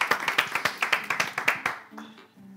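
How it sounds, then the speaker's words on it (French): Sparse clapping from a small audience welcoming a doctor at a presentation, with about a dozen distinct claps that stop after roughly two seconds, followed by a brief voice. "Est-ce qu'on peut applaudir Israël pour moi?"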